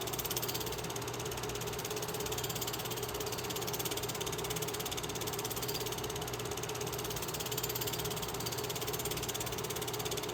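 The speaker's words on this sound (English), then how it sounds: "Another sweeping curve as the engine goes around it." Steam locomotive 2839 runs through Indiana countryside near Cordon Junction in 1979, giving a steady, unbroken mechanical clatter and rumble, like grinding gears, that holds evenly and fairly loud throughout with no voices.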